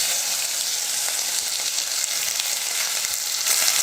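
Chopped onions, including small shallots, sauté steadily in a hot pan with a continuous, fairly loud, dense sizzle and crackle that stays even throughout, with no voices.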